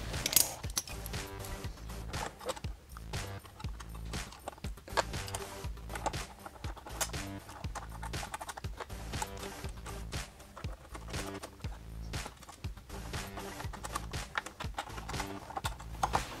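Close, steady clicking and ratcheting as fasteners are worked loose from a bracket on a 2014-2016 Yamaha FZ-09 motorcycle, a continuous mechanical chatter with small irregular knocks throughout.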